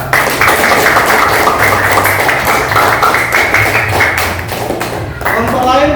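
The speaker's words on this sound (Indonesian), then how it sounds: "Tepuk tangan" Students in a classroom clap their hands in a steady, dense burst of rapid claps lasting several seconds, close and loud, with a low hum of voices underneath.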